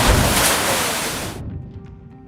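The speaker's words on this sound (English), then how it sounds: "Rocky shores, crashing waves, and vibrant marine life like cod, lobster, and puffins" Ocean waves crash and wash against the rocky shoreline at Bar Harbor, a loud, steady roar of surf that cuts off abruptly partway through, leaving a faint hush.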